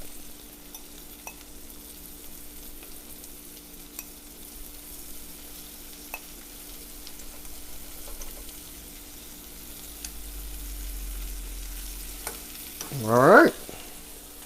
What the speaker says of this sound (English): we're just gonna let those cook in there for a minute